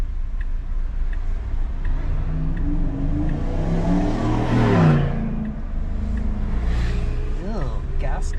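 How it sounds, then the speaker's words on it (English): Gas cars and trucks roll through city traffic in Los Angeles near Beverly Hills and Westwood, a continuous low engine rumble with one vehicle swelling past at mid-clip and another rising whine near the end, heard from inside a car. "Ew, gas cars, trucks."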